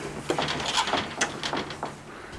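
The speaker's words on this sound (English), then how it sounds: "It's got a big sliding glass sliding door." A large sliding glass door in a 2009 38-foot Cedar Creek fifth-wheel travel trailer rolls along its track, with a few close rattles and soft knocks over quiet room tone.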